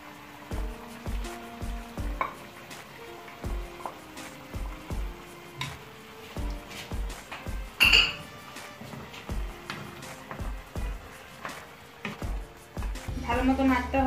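Meat is stirred with a homemade shahi spice mix in a pot for Bangladeshi shahi biryani, giving steady rhythmic scraping and soft sizzling with occasional clinks of a utensil against metal, under low background voices.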